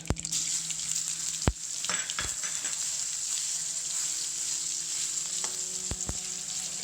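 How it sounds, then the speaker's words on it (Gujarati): Stuffed bitter gourds fry steadily in oil with mustard seeds and cumin over medium heat, a soft continuous sizzle with a few sharp pops and crackles, close and alone with no voices. "કારેલાને મીડિયમ ગેસથી 5 મિનિટ ચડવા દઈએ તેલમાં"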